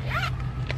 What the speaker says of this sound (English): it can like zip all the way out